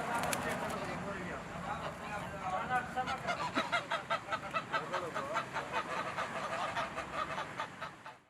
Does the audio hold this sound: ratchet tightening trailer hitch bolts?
no